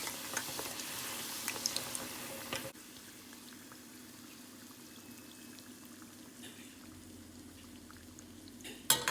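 Puri deep-frying in hot oil with oil splashed over it, a steady bubbling hiss that starts loud and busy, then settles into a softer, even sizzle before a brief clatter at the end.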